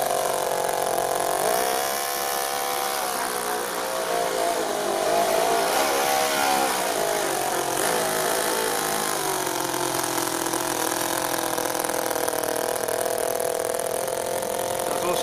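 A small RC vehicle engine buzzes loudly and steadily while hauling a 10 kg metal trailer, its high whine wavering slightly under load, close and continuous with no talk.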